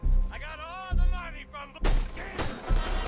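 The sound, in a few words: gunshots in video game Red Dead Redemption II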